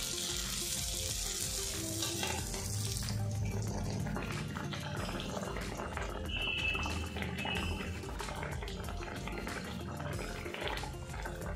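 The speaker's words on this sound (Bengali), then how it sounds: "মালপোয়াটা কিন্তু একটু ব্রাউন কালার করে ভাজবেন" Malpua pitha sizzle steadily in hot frying oil, a dense, constant crackle heard up close with no talk over it.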